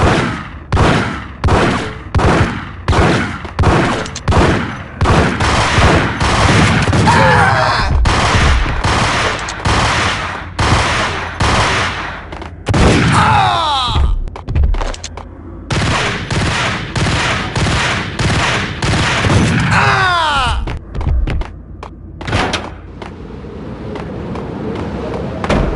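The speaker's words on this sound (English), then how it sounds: "Gun him down!" Sustained gunfire from the video game Max Payne: rapid bursts of automatic fire and repeated loud shots, nearly continuous and close, with short pauses and a few shouted voices mixed in.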